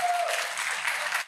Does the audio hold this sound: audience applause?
yes